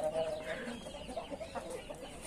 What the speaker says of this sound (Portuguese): E as galinhas que arrumou uma encrenca ali.